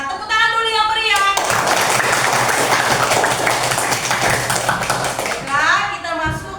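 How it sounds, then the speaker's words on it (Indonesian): Schoolchildren in an Indonesian classroom applaud on their teacher's cue, a dense steady burst of clapping lasting several seconds, with a voice speaking just before and after it. "Tepuk tangan dulu yang meriah."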